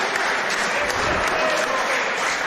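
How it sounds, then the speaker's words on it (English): A professional wrestling crowd claps and cheers in a continuous, dense roar of applause, with speech faintly present underneath. "listen to this crowd here behind them"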